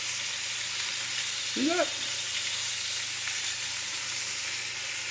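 Food fries in a cast iron skillet with a steady, close sizzle, joined briefly by a short spoken remark.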